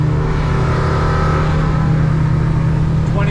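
Twin F200 outboard motors on a 2025 Defiance 26 boat accelerating, a loud, steady, close engine drone with a strong low hum running throughout.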